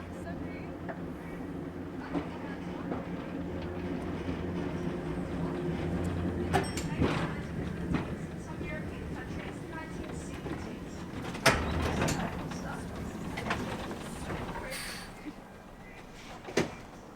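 Steady rumble and rattling inside the ex-Dunedin number 11 heritage tram running round the Christchurch city loop, continuous low rolling noise with occasional clunks and creaks, under a voice talking.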